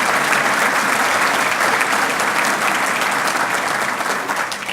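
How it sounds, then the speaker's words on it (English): A legislative conference audience applauds loudly and steadily, a dense wash of clapping that holds throughout and tapers slightly at the end. "another round of applause for everything they do for you"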